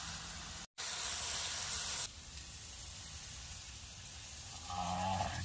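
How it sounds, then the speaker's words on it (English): Food sizzling on a small camp heater outdoors, a soft steady hiss that continues throughout and swells slightly toward the end, with no talk over it. "Starting to sizzle."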